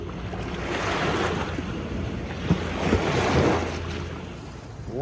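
Waves wash onto a beach in a steady rolling hiss while gusts of wind buffet the microphone. The sound stays moderately near, with no voices.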